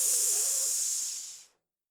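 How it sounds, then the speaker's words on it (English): A hot blade plunged into a water bath in a smithy sends up a loud, steady hiss of steam that holds for over a second and then cuts off abruptly. "Steam erupts from the bath, along with a cacophonous hiss"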